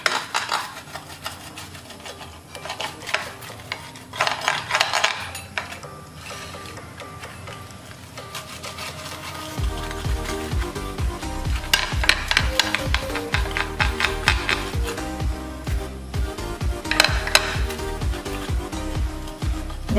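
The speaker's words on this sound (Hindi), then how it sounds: "जैसे हम लोग पिज्जा काटते हैं बस उसी हिसाब से इसको काटूंगी मैं।" A knife or cutter scraping and clacking against a plate or board while an aloo cheese paratha is sliced into wedges like a pizza, with irregular taps and crunches that grow busier and louder partway through, no voices.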